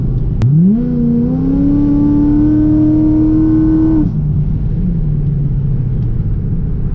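A Procharged C6 Corvette pulls hard under acceleration, its engine note rising steeply then holding a loud, steady high drone for a few seconds before dropping back to a lower rumble, close and alone without speech.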